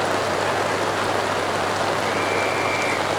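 Steady rain pours down over an open football ground during a men's premier league semi-final, a dense continuous hiss with no voices, constant and fairly loud throughout.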